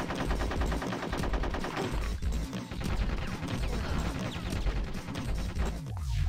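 Gunfire in Conker's Bad Fur Day, with rapid continuous shooting amid crashes and game noise, dense and steady, ending with a sweeping effect.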